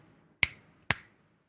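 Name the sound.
a single hand clap to sync recording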